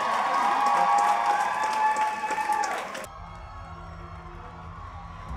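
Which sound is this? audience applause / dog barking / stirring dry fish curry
audience applause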